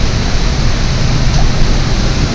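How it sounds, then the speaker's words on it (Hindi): A waterfall near the Tilkeshwar Mahadev temple pours steadily, a loud, dense, unbroken rush of falling water that fills the scene without pause. "कितने फ्लो में ये देखो झरना बह रहा है"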